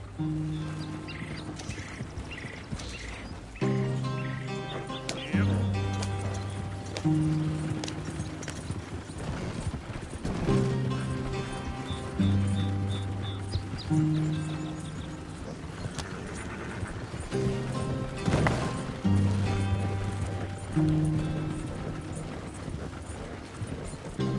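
Hooves clip-clop in a steady rhythm as a horse is ridden in Red Dead Redemption 2, with gear creaks and occasional birdsong alongside.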